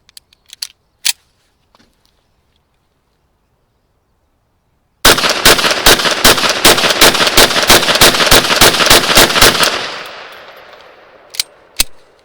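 A Rock Island Armory XT 22 Magnum Pro fires rapidly, about fourteen sharp, loud shots in a steady burst. Echoes fade behind it, and a few isolated shots come before and after, with no talking.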